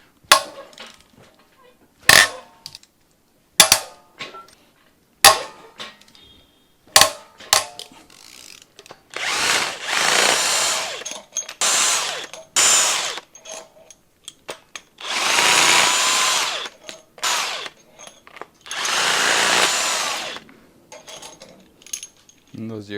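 Cylinder head bolts being removed from a Subaru EJ series engine during teardown: close, sharp ratchet clicks in short separate bursts early on, then longer grinding runs of a power tool spinning the bolts loose, with no voices.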